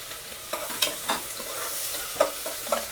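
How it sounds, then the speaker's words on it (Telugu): Thinly sliced onion sizzles in hot oil in a pan, with soft scraping stirs and small spatters at intervals, close and fairly quiet. "ఇప్పుడు మనము మంచిగా సన్నగా కట్ చేసుకున్నాం. ఒక ఉల్లిగడ్డ వేసుకుందాం."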